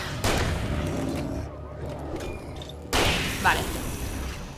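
Shotgun blasts in the game Alan Wake: a loud boom near the start and another sharp blast around the three-second mark, set against a busy game soundscape with a low rumble.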